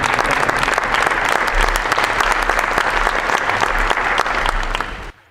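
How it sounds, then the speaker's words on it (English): Conference luncheon audience giving a sustained round of applause, dense and even clapping from a large crowd that cuts off abruptly at the end. "So let's give them another round of applause."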